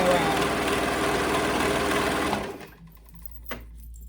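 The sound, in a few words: sewing machine stitching raw edges of a princess dress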